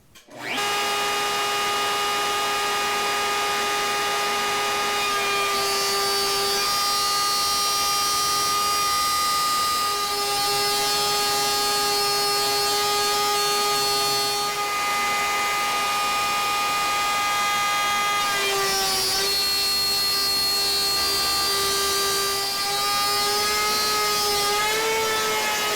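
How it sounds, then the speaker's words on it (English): Router table spinning a bit through a wooden workpiece to cut a profile, a steady, loud high-pitched whine holding for the full stretch with slight dips in pitch as the wood is fed. "Now I'll be routing 2 profiles on each piece, one from each side, to accommodate the clamps."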